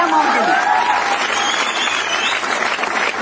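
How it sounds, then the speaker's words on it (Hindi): Loud audience applause at a Hindi motivational seminar, dense sustained clapping from a large crowd filling the whole stretch, with a speaker's voice heard briefly at the start. "जोरदार तालियां मॉम के लिए।"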